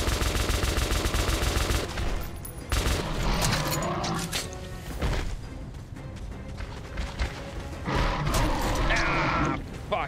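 Rapid gunfire from the video game Metro Last Light Redux crackles in loud bursts and sustained volleys, with brief pauses between strings of shots and harsh game effects mixed in.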